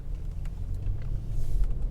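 Car driving on a morning commute, a steady low road rumble and engine hum from inside the cabin, continuous and moderately loud with no talk.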